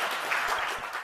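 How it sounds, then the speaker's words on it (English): Applause and laughter from an audience in a room after an attempted joke by the Attorney General, a steady dense clatter of clapping throughout at moderate level. "rewarded by applause and laughter in the room"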